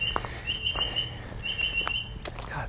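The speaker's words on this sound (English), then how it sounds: "God, thinks he's a car alarm." A bird repeating a shrill, steady alarm-like call outdoors on a walking path near the Kokoda Memorial, sounding in two sustained bursts with a few sharp chirps and faint footsteps between them, moderately close.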